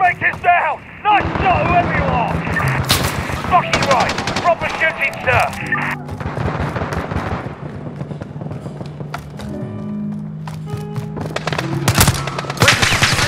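Rapid automatic gunfire and single shots in Call of Duty: Modern Warfare's Piccadilly mission, loud and close, in dense bursts with thuds and pauses, and shouted voices over the fighting.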